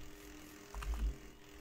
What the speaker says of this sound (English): Oh, it's a drone.